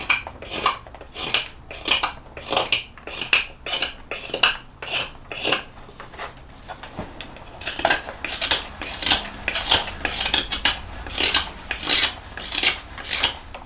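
A Ben Orford spoon knife carves a cherry wood spoon in quick, regular scraping strokes, each a bright rasping cut, about a dozen in a row, a brief pause, then more strokes, close and clear with no talking.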